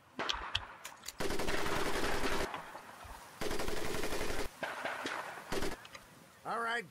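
Video-game gunfire in Medal of Honor: Pacific Assault on Guadalcanal: long bursts of automatic fire alternate with short gaps and single shots, loud and close, ending in a brief rising tone.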